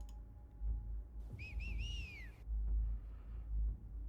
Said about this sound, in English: And another set of whistles from another place.